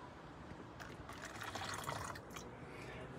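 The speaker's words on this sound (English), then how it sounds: "So the first thing we're going to do is take our Chemtool and just pour it into the Coke bottle here." Chemtool carburetor cleaner poured from its container into a plastic Coke bottle, a faint, close liquid trickle that swells briefly and then fades.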